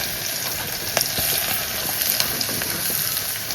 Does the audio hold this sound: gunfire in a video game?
no